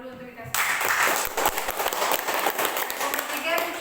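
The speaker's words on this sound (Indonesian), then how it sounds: "Kita tepuk tangan dulu untuk dikasih." A classroom full of students applauds a presenting group as they finish, with dense, steady clapping that starts abruptly and fills the room at close range.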